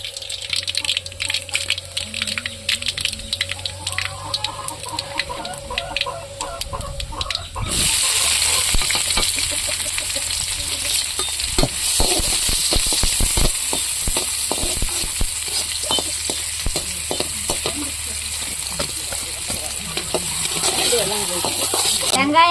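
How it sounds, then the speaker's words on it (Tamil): Mustard seeds, dried red chillies and onion frying in hot oil for a manathakkali keerai stir-fry, a steady loud sizzle with scattered crackles and pops from about eight seconds on, after a quieter start with a voice talking. "எண்ணெய் காய்ச்சிட்டு கடுகு ஆ போட்டுக்கலாம் வரமிளகா போட்டுக்கலாம் வெங்காயம் போட்டுக்கலாம்"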